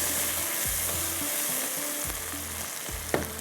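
Onions and tomatoes fry in a pan for beef pasanday, a loud continuous sizzle heard up close and alone, broken by a few scraping stirs.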